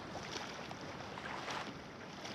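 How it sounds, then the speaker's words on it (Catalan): Rough, churning sea water slaps around a kayak off the coast of Menorca, a continuous close rushing wash mixed with wind buffeting the microphone. "L'aigua es mou molt, és molt caòtic. I hi ha molt de soroll."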